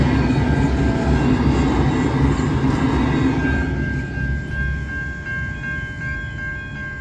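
A V/Line VLocity train passes Exford Road level crossing in Melton South, Victoria, a close loud rumble of the train with a sustained horn tone that lingers as the roar eases.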